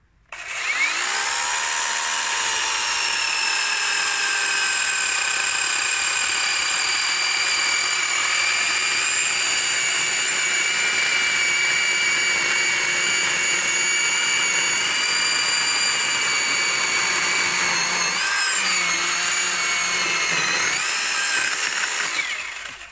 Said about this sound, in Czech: řezali jsme to přes suk a teda musím říct, že to řeže fakt pěkně ta pila teda